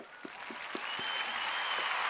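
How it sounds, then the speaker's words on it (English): A polite golf clap: four slow, evenly spaced claps stand out at first, then a fuller wash of light applause swells and holds to the end. "Golf clap."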